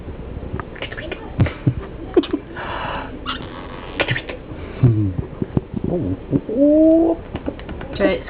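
A pet white-capped pionus parrot makes short chirps, soft coos and a rising whistle-like call, close by and mixed with people talking.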